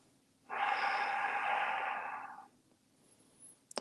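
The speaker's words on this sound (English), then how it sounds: "Take a few breaths here." A single long, breathy exhalation lasting about two seconds during a calm yoga session, close and clear over quiet surroundings, followed by silence and a few faint clicks.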